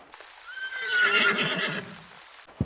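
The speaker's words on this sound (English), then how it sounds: "I heard a fucking horse." A horse whinnies loudly and at length, a shrill rising-and-falling neigh over a few seconds, with no voices around it.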